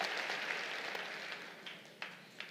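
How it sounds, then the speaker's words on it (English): Audience applause at a Corps of Cadets commencement ceremony for the Class of 2023, a broad steady wash of clapping from a large crowd that slowly fades, with a few sharper claps standing out. "I was supposed to ask for a round of applause. But you already did that."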